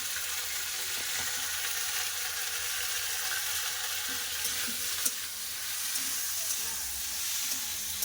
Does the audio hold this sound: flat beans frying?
yes